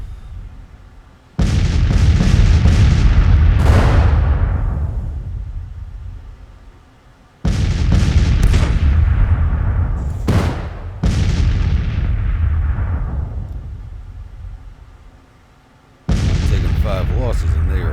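Cannon barrages in Grand Tactician: The Civil War, heavy booming volleys arriving in four separate waves, each a loud crackling rumble that slowly fades before the next salvo erupts.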